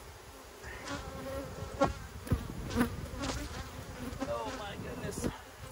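Honey bees swarm around an open, honey-heavy hive in a loud, close, continuous buzz, while a person briefly exclaims over the hum.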